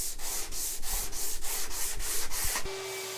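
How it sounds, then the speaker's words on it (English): A sanding block is rubbed back and forth by hand along the grain over a sprayed wood finish, giving a rhythmic series of about nine close, raspy strokes before stopping. "I've got a sanding block, and what I do is just apply that around here and then go through and sand with the grain"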